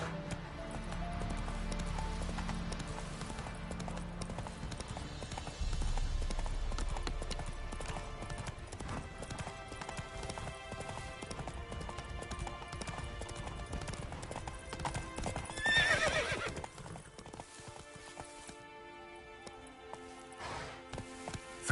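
Roach the horse from The Witcher 3 gallops with steady, fast clip-clop hoofbeats up close, and a brief whinny rises near the end of the run.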